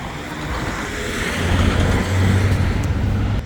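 Car traffic on a busy Istanbul street, a steady roadway rumble of passing vehicles that grows louder midway as a vehicle draws near, with no voices.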